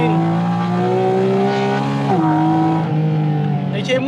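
Porsche Cayman GT4 RS on a slippery track, its engine note rising and holding under steady acceleration with a brief gear change midway, loud and close from on board, with someone talking over it.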